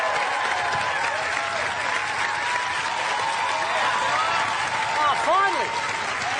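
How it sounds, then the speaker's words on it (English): Loud, sustained applause from a studio audience at a comedy panel show as a Sydney Theatre Company Wharf Review performer takes the stage, steady throughout with a few cheers and a brief spoken exclamation near the end. "Finally a man who knows how to take applause"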